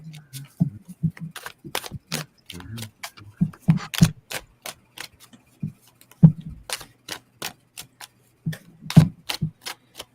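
Tarot cards being shuffled by hand, giving a run of sharp, irregular clicking riffles and taps, close and fairly loud, with short bursts and gaps and no talk over them.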